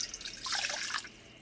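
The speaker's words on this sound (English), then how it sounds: "We start off with 1 cup of warm water." A cup of warm water pours from a kitchen tap for whole wheat bread dough, a steady splashing stream for about a second that then trails off, close by and without talk.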